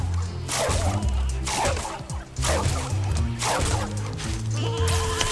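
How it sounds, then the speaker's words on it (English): Sheep bleat repeatedly in Skylanders SWAP Force, several bleats over rhythmic game music and effects, fairly loud and close. "Get that stinking sheep out of here."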